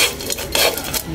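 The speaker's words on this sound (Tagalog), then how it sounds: "Halo-haluin lang natin." Dried dulong fish stirred in a pan without oil, giving a close, steady scraping and rustling of the utensil against the pan with light clinks.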